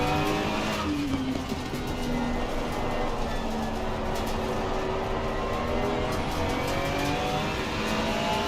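A GT race car in the Assetto Corsa Competizione sim at Silverstone, still on low tyre pressures, accelerates hard through the gears, its engine note rising and falling loudly and steadily throughout, with faint tyre scrub beneath.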